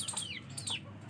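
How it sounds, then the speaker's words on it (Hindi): Hens clucking in a backyard coop at a home in Pakistan, a few soft, close calls with higher squawks over steady low background hum, no talk. "कुछ मुर्गियाँ यहाँ पर हैं"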